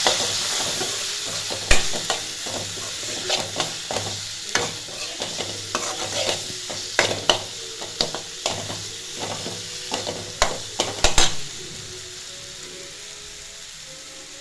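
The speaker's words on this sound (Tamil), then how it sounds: "சேர்த்துட்டு அதை அப்படியே சேர்த்து வதக்கி விட்டுக்கோங்க." Potatoes fry in oil with chili powder while being stirred. The pan sizzles softly and sharp scraping clicks land at irregular intervals, with no talk.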